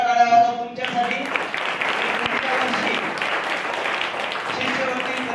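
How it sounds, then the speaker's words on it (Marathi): Applause at a farewell ceremony at Kasara No. 1 Zilla Parishad primary school; after a brief musical tone fades, a large audience claps loudly and steadily for several seconds, with an even wash of clapping throughout. "पुन्हा एकदा जोरदार टाळ्या वाजवा तुमच्यासाठी"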